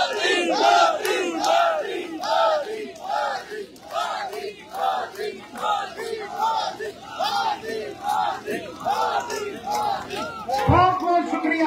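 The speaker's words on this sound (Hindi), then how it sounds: "तालियां मारी तो दसो" A crowd at a BJP political rally in Nowshera raises loud, rhythmic shouts and cheers in repeated bursts, many voices together rising and falling in a steady chant-like pattern.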